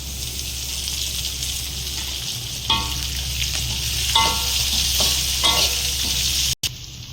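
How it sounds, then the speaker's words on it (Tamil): Curry leaves dropped into hot oil in a pan of sautéed vegetables, a loud steady sizzle throughout with a few scraping stirs of a spatula, close up, no talking. "இப்போ தேவையான அளவு கருவேப்பிலை போட்டுக்கலாம்."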